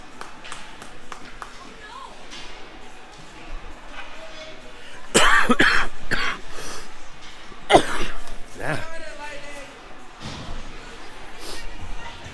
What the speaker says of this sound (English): Pardon the coughs.